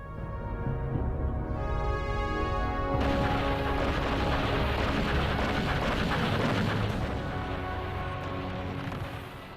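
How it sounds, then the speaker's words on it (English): Massive artillery barrage from the Viet Minh assault on Dien Bien Phu, 1954: a dense, loud, continuous rumble of blasts and crashes. The roar starts near and swells after the first few seconds, then holds steady to the end. "After a massive barrage, the Viet Minh infantry hit the remaining bunkers"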